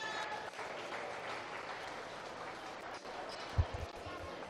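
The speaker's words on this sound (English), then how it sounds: "Give these exhibitors a round of applause." An audience in a show arena claps steadily for meat goat show exhibitors, a continuous moderate round of applause with a brief thump near the end.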